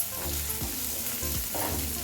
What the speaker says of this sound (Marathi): म्हणून मी आधी भाजून घेते मसाला सगळा.